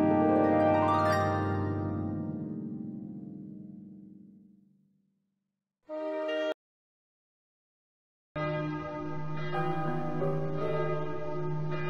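A church bell in the video game Animamundi: Dark Alchemist rings out loud and resonant, its long shimmering tone fading away, followed after silence by a brief struck chime and then a sustained, rich bell tone that continues to the end.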